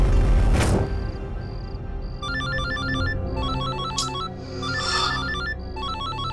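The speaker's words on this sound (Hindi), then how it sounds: "इतनी रात को 3:30 बजे भी अनजान नंबर से फोन।" A phone rings late at night with an electronic ringtone from an unknown caller, repeating patterned beeping tones over a steady low background, loud and close, with no one speaking.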